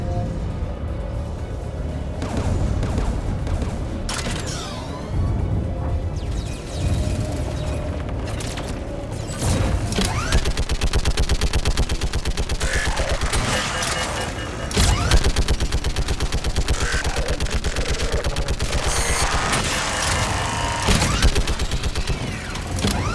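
Mounted gun firing during a Mass Effect 3 battle, sustained dense volleys of heavy shots and booms layered with mechanical clatter, loud and continuous for the whole stretch with brief surges.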